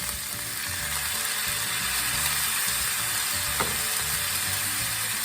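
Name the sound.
can of corn added to sizzling ground meat in pan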